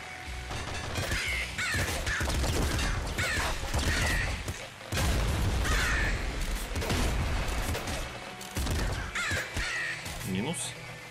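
Crows caw repeatedly in the video game Nuclear Throne, with harsh calls recurring over dense game effects and gunfire while someone talks throughout.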